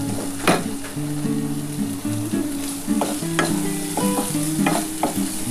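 Poppy seeds fry in a pan with onion and a slit green chilli, a steady, busy sizzle and scraping stirs close up, while a low melodic tune plays quietly underneath.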